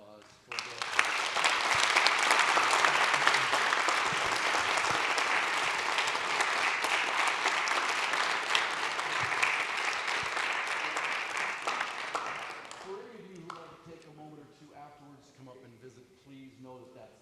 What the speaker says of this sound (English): Can I encourage a last round of applause